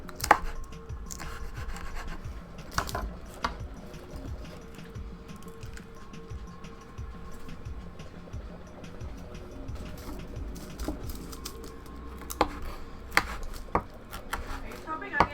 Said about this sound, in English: I'll definitely need to chop these down a little bit more too.